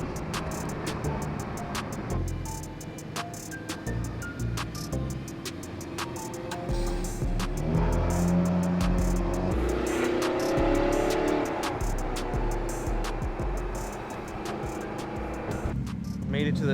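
Loud car engines at a supercar cruise meet in Japan as many cars park, with rumbling idles and revs rising and falling while people talk nearby.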